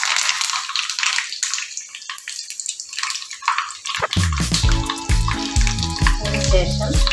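Curry leaves dropped into hot oil with mustard seeds and chillies in an iron wok burst into loud, crackling sizzling that takes over after a quieter hiss, continuing steadily to the end.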